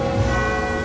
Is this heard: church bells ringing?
yes